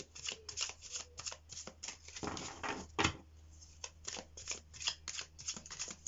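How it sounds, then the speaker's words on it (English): Tarot cards shuffled by hand in repeated riffling bursts, crisp and close, with a few louder slaps and pauses between shuffles. "let's get these cards shuffled"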